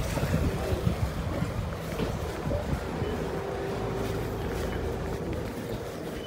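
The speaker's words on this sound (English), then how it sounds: "This is the only Transperth Ferry" Transperth ferry at the South Perth jetty, a low engine drone with water sloshing and wind buffeting the microphone, moderately loud and continuous, with no talk.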